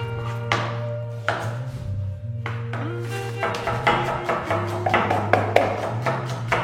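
Knife chopping onions on a board, a quick run of crisp close taps with a steady low hum beneath, the strokes growing denser toward the end.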